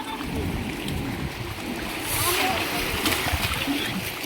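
A wooden boat is hauled out of a river, with water splashing and sloshing at moderate distance while people talk and shout nearby.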